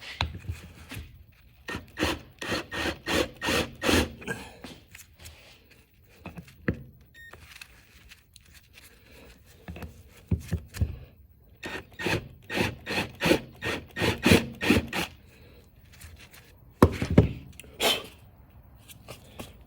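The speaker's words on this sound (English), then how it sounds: "Thought it takes long to countersink a hole, right?" Hand countersinking a bolt hole on a Yamaha DT 100 dirt bike: repeated rasping, scraping strokes in quick bursts, close and fairly loud, with short pauses between runs and a sharper knock near the end.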